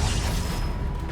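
A single Bombarda spell blast in Hogwarts Legacy, a short booming burst that rolls off into a rumbling wash of noise.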